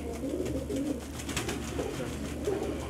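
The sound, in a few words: giribaz pigeons cooing in shop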